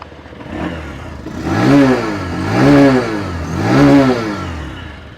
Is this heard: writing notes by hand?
no